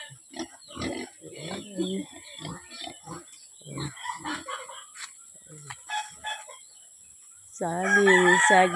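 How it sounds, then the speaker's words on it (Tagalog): Pigs grunt on a tropical farm while a person talks over them, and a rooster crows loudly near the end. "Oh, isa pang baboy dito."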